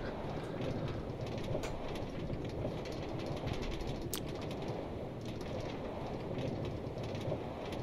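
Train rolling along a railroad in a video game, heard as a steady, fairly quiet mechanical rumble and clatter that holds evenly throughout with no talking.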